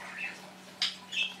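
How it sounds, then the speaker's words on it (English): Birds squawk and chirp outdoors in a few short, faint bursts over a low background hum, with no one talking. "And there are birds making noise."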